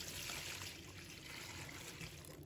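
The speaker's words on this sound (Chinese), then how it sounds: "再倒入清水" Clean water pours into a bowl holding mushrooms and a spoonful of flour, a soft, steady trickle and splash heard up close and alone.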